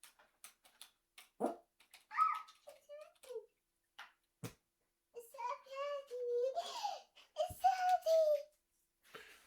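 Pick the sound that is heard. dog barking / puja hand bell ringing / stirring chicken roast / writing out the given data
dog barking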